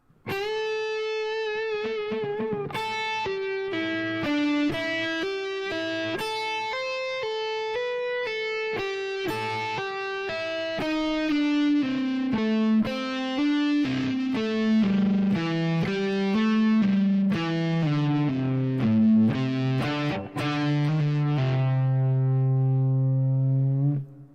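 A distorted electric guitar plays a sustained, flowing blues lick from a song's solo, with a held bend and vibrato and notes that slide downward, ringing out alone for over twenty seconds.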